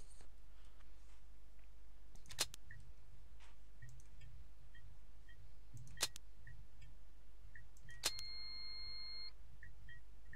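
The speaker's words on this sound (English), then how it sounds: "Why'd it beep at me?" Short electronic keypad beeps in the horror game Cry of Fear, several quiet tones spread across a faint background hum with a few sharp clicks, ending in one longer sustained beep.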